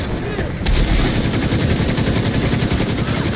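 Sustained gunfire in The Division 2, a loud continuous burst of rapid automatic shots with heavy rattling booms that runs the whole time after a brief lead-in.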